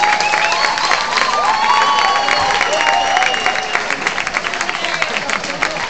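Concert crowd applauding and cheering for a band member being introduced on stage, a dense sustained roar of clapping and shouts filling the whole stretch at a steady loud level with no talk.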